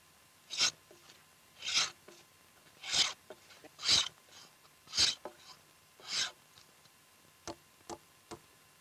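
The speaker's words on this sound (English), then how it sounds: "The floor is finished by planing it smooth." A hand plane is pushed across a wooden log floor to smooth it, giving about a dozen rasping, scraping strokes at a steady pace of roughly one per second, close by with quiet pauses between them.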